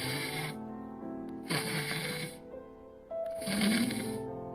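A person imitates simple snoring, three even, evenly spaced rasping breaths in a continuous, regular rhythm, close and clear with no talking over them.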